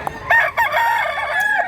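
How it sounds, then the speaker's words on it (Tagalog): A rooster praised as a handsome black-legged gamecock from the mountains of Bacolod, kept in Mantalungon, Cebu, crows once up close, loud and clear with a rising call that holds and wavers before trailing off. "Guwapong manok."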